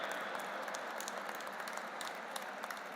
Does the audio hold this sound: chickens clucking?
no